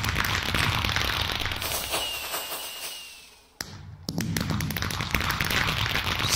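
Small celebratory fireworks crackling in rapid bursts of dense popping, dying away before a sharp bang and another burst of crackle.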